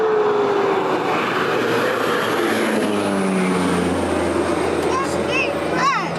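A crop-spraying airplane flies low over a cornfield, its engine drone passing with a falling pitch and sustained roar, and brief voices or chirps near the end.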